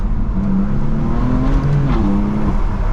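A BMW M4 CS in Sport Plus mode revs loudly up through the gears from close by, its engine tone climbing and dropping sharply at each aggressive shift, with no talking over it.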